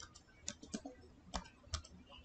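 A few scattered keystrokes on a computer keyboard while entering a command in Windows, quiet clicks at an irregular pace with short gaps, no voices.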